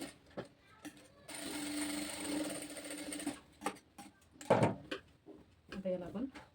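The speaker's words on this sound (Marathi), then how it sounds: "आता यातून फोल्ड करून इथे आपल्याला शिलाई मारून घ्यायची आहे" A sewing machine runs in a burst of about two seconds while stitching a princess-cut blouse. Quiet clicks and handling knocks come before and after, along with brief talking.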